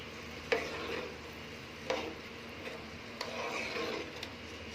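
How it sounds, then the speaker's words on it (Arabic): Rice with salt and ghee is stirred in a pan, with a spoon scraping and knocking against the pan at a slow, irregular pace over a faint, steady sizzle. "هقلبه بقى عشان الملح والسمنة."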